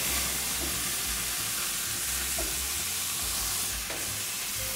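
A bag of vegetables sizzles on a hot grill, a steady loud frying hiss that holds throughout with no talking.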